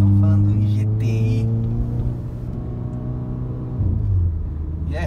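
A stage 2 VW Golf GTI with 285 wheel horsepower accelerates with a deep, loud engine drone heard from inside the car, the pitch shifting as the revs change, while someone talks over it.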